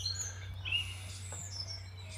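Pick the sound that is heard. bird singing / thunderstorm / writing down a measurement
bird singing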